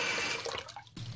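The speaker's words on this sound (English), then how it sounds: "we're going to fill the sink halfway full of water" Tap water runs into a bathroom sink as it fills halfway, a close, bubbling rush that softens and shifts into a gentler trickle near the end.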